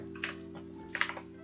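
A computer keyboard gives a few light key clicks, two small clusters of taps over a steady low hum.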